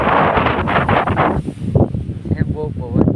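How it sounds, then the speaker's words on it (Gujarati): Strong wind gusts buffet the microphone over a field of swaying millet, with loud, rough rumbling that dips midway as a person talks nearby. "બહુ પવન છે આજ"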